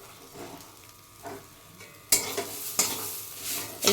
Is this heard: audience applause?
no